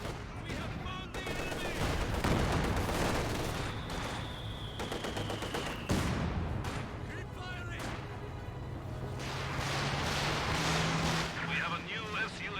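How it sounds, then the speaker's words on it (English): Battle in the Company of Heroes video game: rifle grenade blasts and bursts of gunfire roll on continuously, dense and layered, with a whistling shell passing through the din. "Rifle grenade there."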